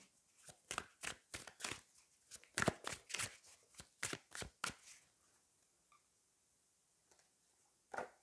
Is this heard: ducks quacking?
no